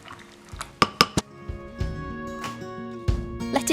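A spoon stirs pistachios soaking in hot water in a bowl, with several sharp close clinks against the dish between soft sloshing and scraping.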